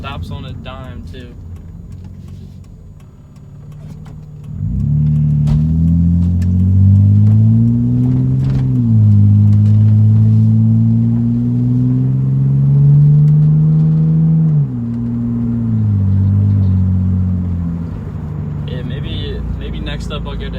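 A loud 2003 Mitsubishi Eclipse with 134,000 miles revs its engine in a close, deep rumble that climbs and holds for about ten seconds, then drops back toward idle.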